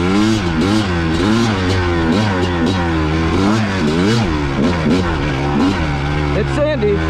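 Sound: 2-stroke Kawasaki KX250 dirt bike riding a trail

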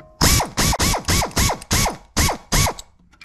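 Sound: ratchet with extension snugging pivot bolts on Club Car golf cart

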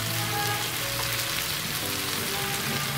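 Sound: brinjal pieces frying with onions in a pan

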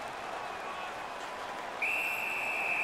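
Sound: referee whistle in NHL 15 video game

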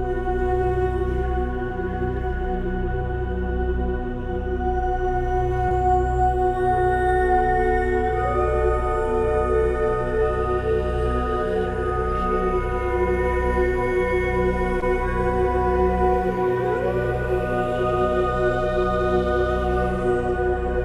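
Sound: glass harmonica with breathy singing voice, played album track

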